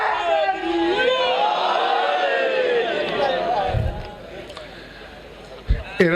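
A majlis audience at a religious gathering chants slogans in loud unison for several seconds, the voices swelling and then fading, followed by a few sharp thumps near the end.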